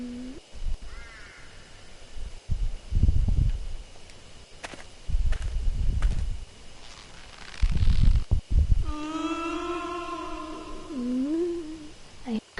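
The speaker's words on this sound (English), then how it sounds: "I hear creaks and groans along with the rustling of leaves." Creaks, groans and rustling leaves in the horror video game Death Mark: low thudding groans and rustles come in bursts, followed by a long drawn-out creaking moan, with no speech.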